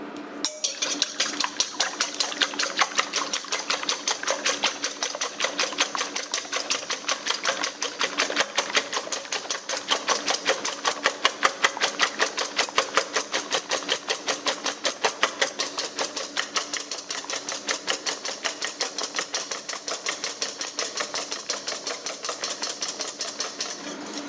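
Egg whites with a pinch of salt are beaten by hand with a whisk in a bowl, giving a fast, steady, even clatter of wire against the bowl that continues throughout.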